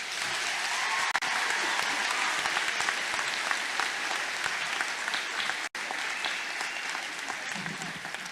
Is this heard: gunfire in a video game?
no